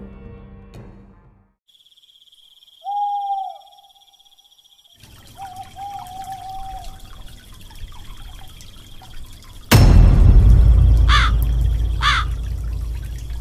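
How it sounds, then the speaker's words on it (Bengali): A cartoon crow caws a few times beside a pond over a quiet background, followed by a sudden loud burst of noisy, splashing sound that carries on to the end. "দেখো ওই কাকটা আমাদের পুকুর থেকে মাছ ধরে খাচ্ছে"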